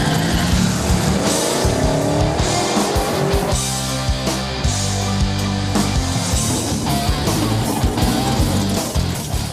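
Hot rod cars race down a drag strip, engines roaring loud and continuous with revving surges, gear changes and brief tire squeals, no talk over the din.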